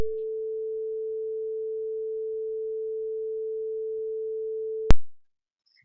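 A quiet synthesized low sine tone holds steady and unbroken for about five seconds, then cuts off abruptly with a sharp click, leaving near silence.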